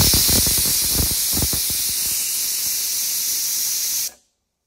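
Pressure cooker whistle blowing a steady, loud hiss of steam while bottle gourd curry cooks on the gas stove, with faint rattling under it, continuing for about four seconds and then stopping abruptly.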